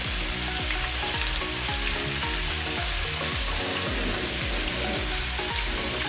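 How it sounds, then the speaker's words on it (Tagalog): Pork hock pieces sautéing with browned onion and garlic in a hot pan for adobong pata, a loud steady sizzle with repeated scraping stir strokes throughout and no talk. "Igisa natin ang pata."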